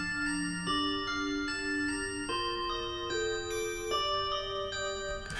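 Chords from the free Vital synth patched to imitate a chord sound: a series of bright, bell-like sustained chords that change every half second to a second, clean and alone.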